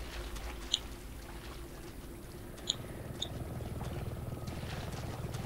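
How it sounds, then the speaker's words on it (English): A helicopter in the VR horror game Resident Evil 7 gives a steady, droning low rumble that holds for several seconds, with a few faint sharp clicks on top and no talking. "Is that a helicopter?"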